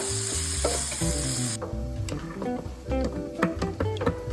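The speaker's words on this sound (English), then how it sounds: "I like to caramelize my onions so the onion flavor really absorbs within the meat." Onions caramelizing with meat in a hot pan give a loud, continuous sizzle and frying crackle close by, with occasional utensil taps and stirring scrapes and no talk.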